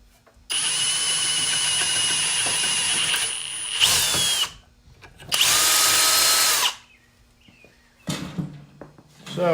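A power drill bores and taps metal hinges for Zerk grease fittings during a fabrication job, running in loud sustained bursts of several seconds with short pauses and tool handling in between.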